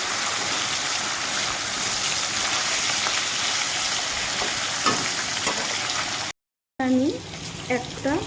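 Rohu fish steaks frying in hot oil in a home kitchen, a steady dense sizzle and crackle running throughout, briefly cut to silence near the end, then resuming with a voice talking over it.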